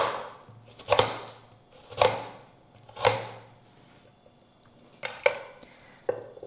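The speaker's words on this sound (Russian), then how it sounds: "Вот так вот нарезаем." A knife chops carrots on a cutting board for pickled cabbage, giving sharp, close, distinct knocks: three evenly spaced strikes, a pause, then a quicker cluster of three more.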